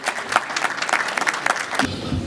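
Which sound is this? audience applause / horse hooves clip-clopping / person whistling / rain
audience applause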